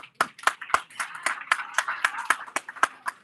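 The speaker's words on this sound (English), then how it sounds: "Let's give Gabrielle a round of applause" Guests at a wedding reception clap after a bride's speech, a loose run of distinct, sharp hand claps at a fairly steady rhythm, with a voice talking between and over them.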